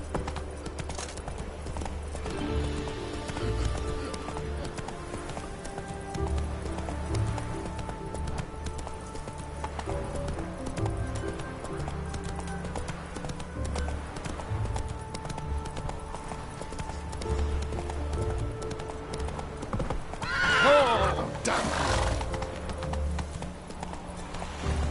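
Roach, the horse in The Witcher 3, gallops in a steady, rhythmic run of hoof clip-clops over a music-and-ambience bed, with a brief sharp burst near the end.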